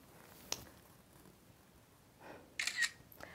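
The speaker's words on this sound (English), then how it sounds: "So I'll take a picture real quick" An iPhone XS Max camera shutter clicks once, faint and close, amid a quiet room with small handling taps around it.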